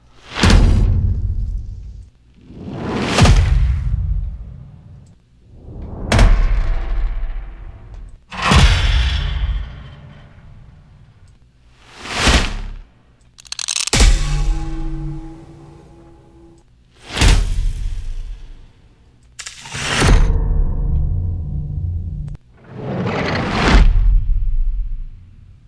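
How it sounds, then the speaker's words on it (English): Whoosh bang sound effects from a sample pack play one after another, about nine separate hits, each a rising swoosh that ends in a heavy bang, with short silent gaps between them. "Got our whoosh bangs."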